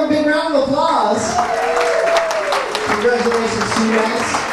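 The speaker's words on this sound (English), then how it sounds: "let's give them a big round of applause." Wedding guests applauding parents and grandparents at a reception, steady clapping under cheering voices and chatter, moderately loud throughout.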